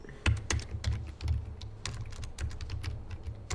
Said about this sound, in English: I wish I had a better keyboard that didn't make a lot of noise when I typed